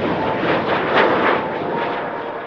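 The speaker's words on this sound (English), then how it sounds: "After confirming the weather, Wu Zhuangzhi takes off and will arrive at Beijing Daxing International Airport in 2 hours." Airplane taking off on a flight to Beijing Daxing International Airport: a loud, steady engine roar that swells slightly midway and then holds, with no voices.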